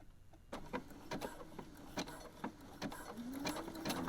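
Sewing machine running in short bursts while stitching sports bra fabric on a large straight basting stitch, a steady mechanical whir broken by brief pauses and clicks, close and clear with no talking.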